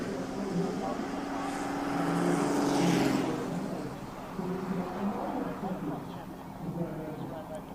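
A 1,000-horsepower Toyota race car at the Simola hillclimb roars past with an engine note that swells to a peak and then fades into the distance, while commentators talk over it.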